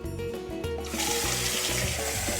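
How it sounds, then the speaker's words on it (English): Water from a kitchen tap pours into a cooking pan, a steady full rushing stream that continues unbroken and close by, with no voices. "I'm going to measure 3 cups of water here and pour that into our pan."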